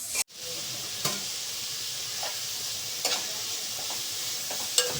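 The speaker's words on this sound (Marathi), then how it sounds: "आता याच्यामध्ये टोमॅटो मिक्स केला." Prawn biryani masala with tomato being stirred in a pan. The masala sizzles steadily, and a utensil scrapes the pan a few times with sharp taps.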